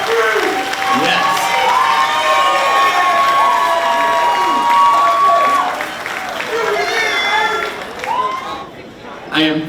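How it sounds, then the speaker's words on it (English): A crowd cheers, whoops and applauds for an 8th grade graduating class at a school graduation ceremony, loud and lively with shouting voices over clapping, fading somewhat toward the end. "give them one big round of applause"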